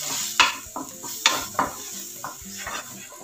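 Turmeric, red chilli powder and black goda masala sautéing in a pan while a spoon scrapes and knocks against the metal in several distinct strokes over a soft sizzle, close and alone.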